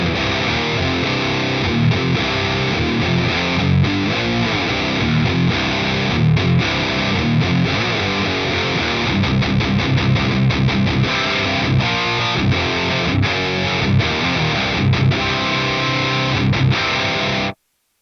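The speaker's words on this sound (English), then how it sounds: "So this is the stock settings on the 5150. This is my PRS SC245." PRS SC245 electric guitar played through an Amplifire 5150 amp model at stock settings: a heavily distorted, chunky riff with chugging palm-muted rhythm and sustained chords, loud and alone for about seventeen seconds before stopping abruptly.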